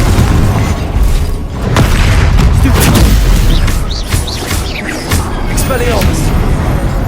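Confringo blasting spell explosions from the Hogwarts Legacy video game during Charles Rookwood's trial, loud booming bursts going off repeatedly amid dense combat noise, with a voice speaking over them.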